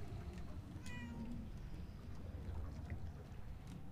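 A cat meows in the video game Murdered: Soul Suspect, a short faint mew heard once over a steady low background rumble.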